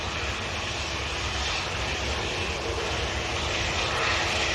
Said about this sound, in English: a nice British Airways A321 just landed